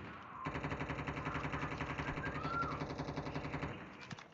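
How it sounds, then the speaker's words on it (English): Rapid gunfire from a video-game firefight, sounding as a continuous automatic burst of evenly spaced shots for about three seconds, loud and close, ending abruptly with a few scattered trailing shots. "I'm going to get my sniper out"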